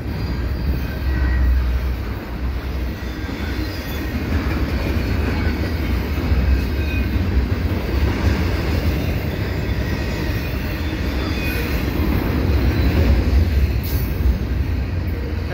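A CPKC double-stack freight train with orange Hapag-Lloyd containers rolls past at Valois, a loud steady rumble with faint wheel clatter and high squealing sustained for the whole stretch.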